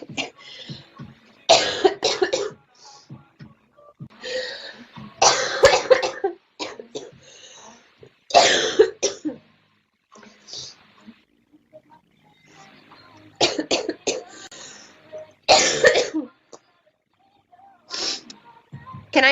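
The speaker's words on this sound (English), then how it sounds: "Can I put up a countdown to stop coughing?" A girl coughs repeatedly in sharp, loud bursts, several single and clustered coughs spaced by quiet pauses across the stretch.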